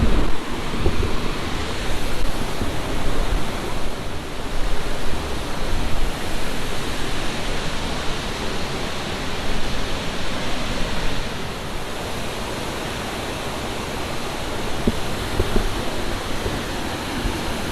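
Damagan Falls in Bohol, a waterfall pouring in a continuous broadband rush that stays loud and steady throughout, a dense wash of falling water with no voices.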